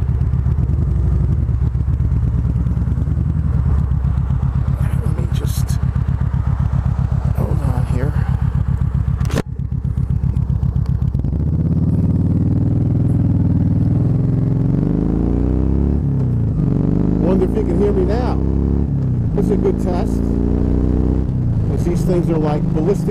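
A Vaquero motorcycle fitted with Vanson Hines dual slash cut mufflers rumbles steadily with a deep, throaty idle and occasional revs, heard close up over most of the stretch while someone talks.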